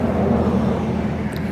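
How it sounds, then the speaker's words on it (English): A loud truck rumbles past close by, a mowing vehicle hauling a load of mowers in the back, giving a steady broadband engine and road roar with no break. "It's a mowing vehicle with a bunch of mowers in the back, I think."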